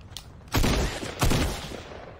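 Automatic shotgun fire in the Fortnite video game: two loud, close blasts about a second apart, each with a sharp attack and a decaying tail over a low background hum.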